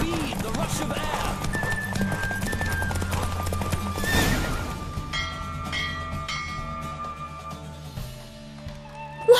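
A horse gallops in The Witcher 3 video game: a steady, rapid clip-clop of hooves with a whinny partway through, heard under background music and voices.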